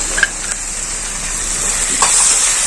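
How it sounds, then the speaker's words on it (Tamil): Ginger-garlic paste fries with onions in a hot pan, giving a steady, loud sizzle and hiss close up, with a few faint stirring scrapes and no talking. "இதையும் சேர்த்து நல்லா வதக்கிக்கலாம்."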